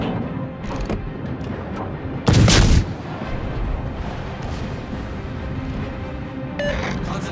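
A heavy naval gun salvo booms once mid-clip in World of Warships, a loud broadband blast aimed at an enemy warship, set against a steady rumble of game ambience with a sharper crack near the end.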